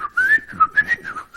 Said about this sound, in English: I remember he had a penny whistle, you know, those Irish whistles